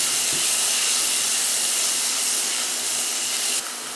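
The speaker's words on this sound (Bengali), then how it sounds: "পেঁয়াজটা ভেজে গোল্ডেন কালার করে নেব" Onions fry with a little salt in a pan for a Bengali jackfruit curry, giving a steady, close, hissing sizzle that runs unbroken for the whole stretch with no voices.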